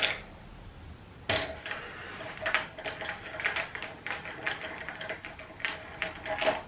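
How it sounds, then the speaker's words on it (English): Wrench working the locking nut on the front end of a 1968 BSA B44 motorcycle, giving a series of close metallic ratcheting clicks and clanks that start abruptly and repeat irregularly. "Loosen up the locking nut"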